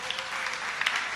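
Applause from an audience at an Indonesian stand-up comedy show, a brief burst of clapping with a few sharper claps, a voice faintly audible alongside.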